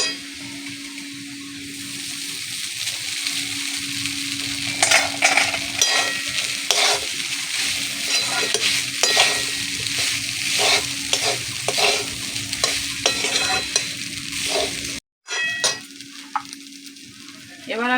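Flattened rice (chira) being stirred in a frying pan, with steady scraping strokes and light sizzle running throughout, loud and close, briefly cut by a short gap near the end.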